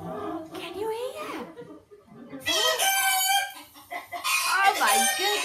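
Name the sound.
chicken clucking and crowing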